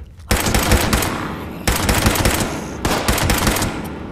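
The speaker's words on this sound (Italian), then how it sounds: "Merda, ho sparato per sbaglio." Rapid automatic gunfire from a weapon in the video game Fallout 76 rattles out in three loud, close bursts separated by short pauses.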